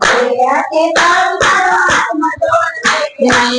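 Loud, close hand clapping keeps a steady beat along to a Gujarati devotional chant, continuing through the song.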